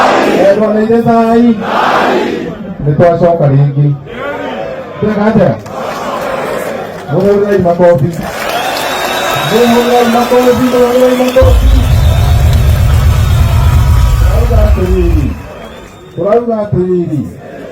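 A large political rally crowd in Murang'a roars and chants for Maina Njenga, loud and sustained, with a deep rumbling surge of voices midway and excited speech-like calls over the top.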